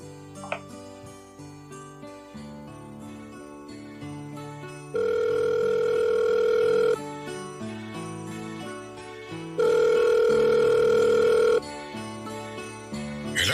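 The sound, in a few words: telephone ringing, radio drama sound effect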